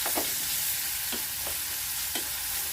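A medium onion sizzles in hot oil in a pan with four sprigs of curry leaves, a steady hiss broken by a few short scraping stirs, close and alone.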